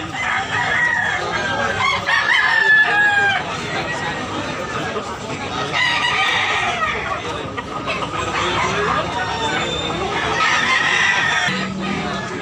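Roosters crow repeatedly and chickens cluck at a busy Tabunok, Cebu fowl market, loud and close, with people talking and bargaining throughout.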